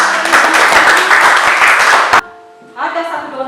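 Classroom applause bursts out briefly and loudly for about two seconds, a dense patter of many hands that then cuts off abruptly, followed by a short, quieter voice.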